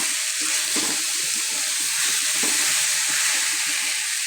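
Boiled noodles being stirred and tossed in a hot frying pan, a steady bright sizzle with repeated scraping and clacking of the spatula throughout.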